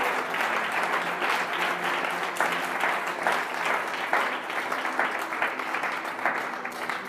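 A church congregation claps together in sustained, dense applause that holds at a steady level for several seconds, a roomful of hands with no speech over it.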